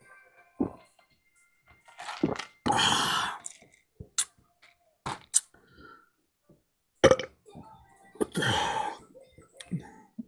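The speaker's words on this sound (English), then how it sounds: "Burp's not big enough." Loud burps after a mukbang feast of char siu chicken and spicy papaya salad, several separate bursts spread across the clip with short gaps between them.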